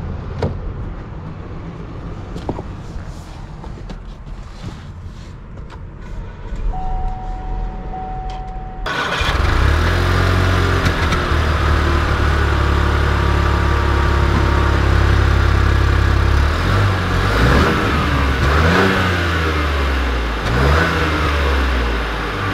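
A 2020 Buick Encore GX compact SUV engine starts with a sudden loud catch after a quiet interior hum, then idles steadily and revs up through rising, falling acceleration sweeps, close and dominant with no speech.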